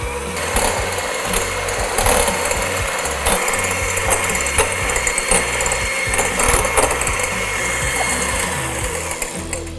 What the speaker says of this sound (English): We are going to whip up our egg whites using a hand mixer.